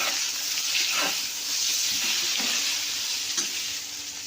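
Fried eggplant with salt and turmeric stirred in a frying pan, a bright continuous hiss of sizzling oil under a few soft scraping strokes of a spatula, close by and steady.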